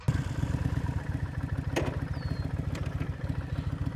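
Motorcycle engine idling on a rustic road, a close, steady low throb with rapid even pulses and a brief clatter partway through.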